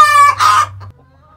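A hen clucks in a short, close burst of harmonic calls, then fades into quiet low background hum.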